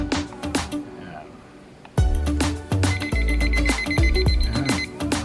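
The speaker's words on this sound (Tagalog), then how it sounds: "mache-check mo na kagad if it's working kasi nag-alarm na siya kagad" A newly unboxed LED alarm clock goes off right after its batteries are inserted, sounding a loud, repeating electronic ring pattern with a sharp tone over faint handling noise.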